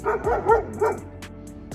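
A dog makes several close, whiny, yipping vocalizations in quick succession, eager and affectionate, followed by a quieter pause and a faint sniff or snort near the end.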